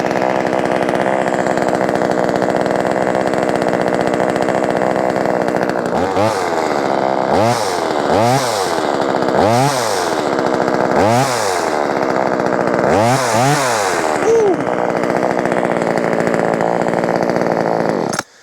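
A small Vevor top-handle chainsaw engine runs loudly and steadily throughout, revving up sharply several times in quick bursts before settling back to a rough idle.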